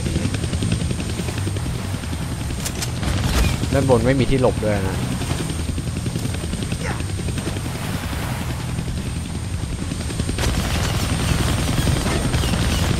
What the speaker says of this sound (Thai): I can't kill that chopper with my guns